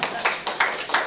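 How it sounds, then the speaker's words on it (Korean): A few close hand claps at a small indoor lecture, about four sharp, evenly spaced slaps in quick succession, with no crowd swell behind them. "박수 한번 주세요"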